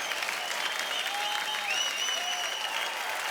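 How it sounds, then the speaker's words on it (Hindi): Studio audience applause on a Hindi comedy talk show set in a staged housing-society scene, steady and full throughout with a few faint whistles riding on top. "तो जोरदार तालियां हो जाए"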